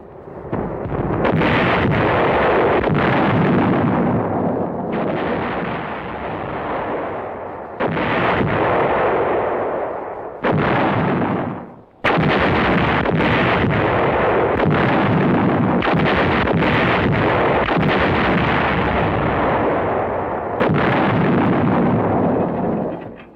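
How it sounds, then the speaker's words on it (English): Heavy artillery fire and shell explosions on the WWII Anzio beachhead roll on almost without pause as loud, dense booming and rumbling with a few brief lulls and sharp breaks, and no voices. "Daily, nightly, endlessly, there was the exchange of shells of varying sizes, weights, and types, fired out from and into the battered beachhead."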